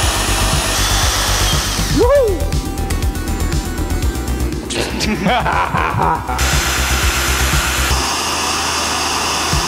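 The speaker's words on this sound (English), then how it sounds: "we still got to drill through that first layer of 1080" A carbide drill bit whirs loudly and steadily against hardened 1080 steel, with scraping and grinding, while a voice cheers briefly partway through.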